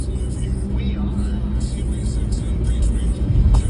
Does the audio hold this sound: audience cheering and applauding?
no